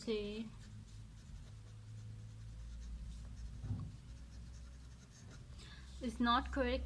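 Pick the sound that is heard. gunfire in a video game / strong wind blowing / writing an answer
writing an answer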